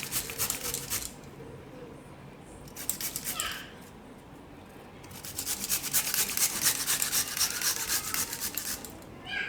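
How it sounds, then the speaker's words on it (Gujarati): Fresh peeled ginger rasped over a hand grater for a Gujarati cornmeal porridge, heard as three bursts of scratchy rubbing strokes, the last the longest and loudest, close up with no voices. "આમાં જ આપણે છીણી નાખીશું આદું"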